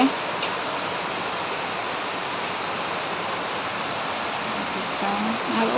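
Heavy rain pours in a dense, unbroken hiss that stays steady and fairly loud from start to finish.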